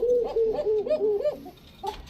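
A Bashiraj kokka pigeon coos up close, a series of soft rolling warbled notes in quick succession, ending with a brief extra call after a short pause.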